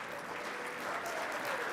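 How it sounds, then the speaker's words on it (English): Brief, faint applause from an awards audience at a CFO of the Year ceremony for small private company finalists, a soft steady wash of clapping heard alone. "Please give them a big round of applause."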